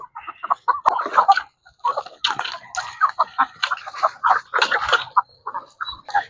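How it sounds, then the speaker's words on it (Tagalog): Chickens feeding eagerly at their food make busy, close clucking and soft chatter in irregular bursts that continue steadily through the stretch. "Takaw ng mga manok na to"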